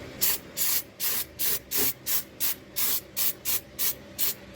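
Liquid grease sprayed from an aerosol can onto Hero XPulse 200 4V motorcycle clutch parts in a series of about a dozen short, evenly spaced hissing bursts, close and fairly quiet.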